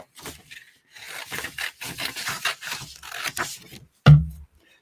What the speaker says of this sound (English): let me grab my scissors here and we'll just trim out a logo